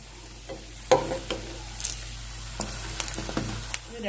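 Jackfruit pieces fry in hot oil with a constant soft sizzle, broken by scattered pops and crackles and a few clinks as pieces are dropped or stirred, close and moderately loud.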